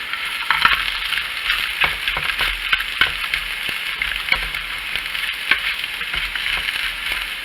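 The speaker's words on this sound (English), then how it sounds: "the tempeh bacon is getting nice and crisp too, so I'm going to toss these a little bit" Tempeh bacon sizzles steadily in a non-stick pan, crisp frying hiss broken by repeated clicks and scrapes as the strips are tossed, close and fairly loud with no talking.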